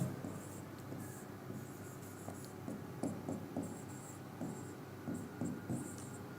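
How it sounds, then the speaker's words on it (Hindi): Writing during a power system stability lecture sounds as faint, close scratchy strokes and small taps, irregular and continuous, on a quiet background with no talk. "तो अब मैं लिखता हूं"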